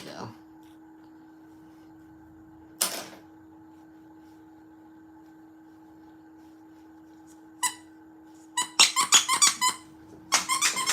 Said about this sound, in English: You gotta find the squeaker